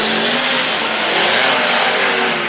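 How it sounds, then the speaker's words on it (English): A race car at an All Star Front Row Challenge launches cleanly off the start line, a loud, sustained high-revving engine roar filling the whole moment without stutter. "No stutter to that car at all, and she took right off."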